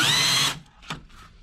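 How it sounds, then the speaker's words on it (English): A diamond burr in a rotary power tool whines loudly against the port edges of a two-stroke cylinder for about half a second, then stops, leaving a couple of faint taps. "So you can use a diamond burr, go around."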